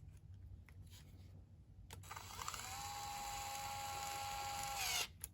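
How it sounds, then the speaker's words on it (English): A power drill whines steadily for about three seconds, rising in pitch as it spins up before stopping abruptly, fitting an aluminum bell crank on an RDX; quiet and close, with no talk. "Yes, I could use my drill, but just a little bit."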